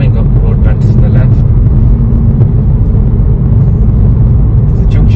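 A car engine pulls steadily uphill on a Kings Heath driving test route, its throttle eased open to hold speed. The low, loud rumble is continuous and close, with faint road noise underneath.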